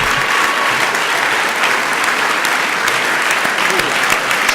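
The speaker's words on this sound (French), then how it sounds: "Je vous demande de faire un tonnerre d'applaudissements" A hall crowd at a sports trophy ceremony in Soustons gives loud, sustained applause, dense clapping that stays steady from start to finish.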